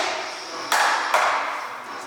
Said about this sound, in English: We're gonna tap it on a hammer.